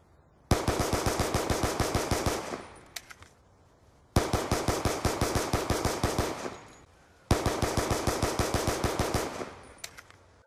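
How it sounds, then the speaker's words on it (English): Tac-45 handgun in Black Ops 2, hip-fired with a laser sight: three loud, close bursts of rapid, evenly spaced shots, each about two seconds long, separated by short pauses. "it is actually fairly decent when shooting from the hip with the laser sight"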